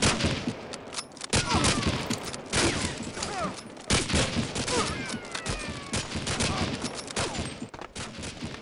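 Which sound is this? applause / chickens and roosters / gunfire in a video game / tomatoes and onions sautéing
gunfire in a video game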